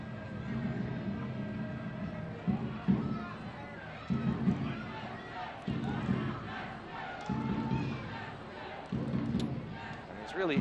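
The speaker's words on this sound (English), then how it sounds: "really energized this crowd as well with that strike. You can hear it." Soccer crowd at a Seattle Sounders FC 2 versus LA Galaxy II match roars after a goal, a broad sustained swell of fan noise with repeated louder surges, while a commentator talks over it.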